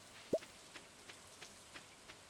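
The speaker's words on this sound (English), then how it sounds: "Oh, also it's raining." Rain falling in the video game Stardew Valley, a faint soft patter with a light thump and a few regularly spaced quiet ticks.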